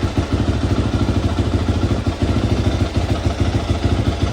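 A cold dirt bike engine idles while warming up, a steady, close, chugging putter with a fast even pulse and slight clattery texture throughout.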